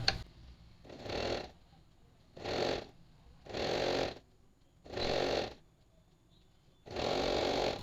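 A sewing machine stitches a one-inch fold on a blouse in five distinct bursts, each running about a second before pausing, close and clear with no talking.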